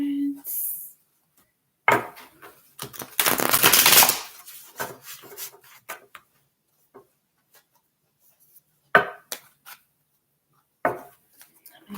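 Tarot cards being shuffled by hand, a few loud riffling bursts with quieter card handling and soft taps between them, close up with long quiet gaps.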